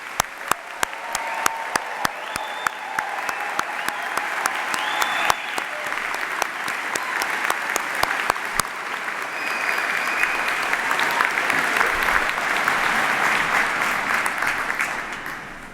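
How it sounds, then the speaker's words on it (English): Sustained applause from a convocation audience at a Brock University graduation, a dense even wash of many hands with some sharp individual claps standing out near the start, continuing for the whole stretch. "giving Brock's graduating class of 2017 a warm round of applause and congratulations."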